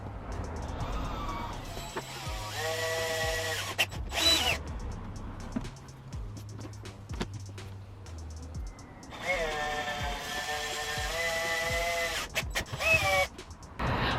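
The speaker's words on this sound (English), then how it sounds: "now I just need to drill some holes" Cordless power drill boring holes through a car license plate on a Ford Focus RS, whining in several separate bursts that rise and fall in pitch, close and loud, with short pauses between runs.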